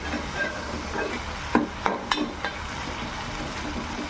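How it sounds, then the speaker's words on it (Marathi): Onion, tomato, ginger and garlic paste frying in a pan, a steady low sizzle with a few sharp scraping stir clicks midway, no voices. "कांदा, टोमॅटो, अद्रक, लसूण याची पेस्ट अशी शिजून द्यायची"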